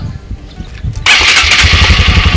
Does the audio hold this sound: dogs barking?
no